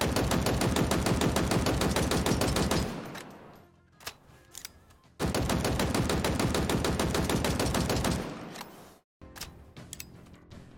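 A Commando rifle in Halo Infinite fires loud, rapid full-auto bursts, each running about three seconds, with short gaps and quieter mechanical clicks in between.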